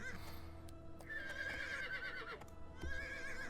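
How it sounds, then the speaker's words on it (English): Horse in the video game Riders of Icarus neighing with long high whinnies, one near the start and a louder one in the middle, and another rising call at the end, over steady game background noise. "That's right, you horse."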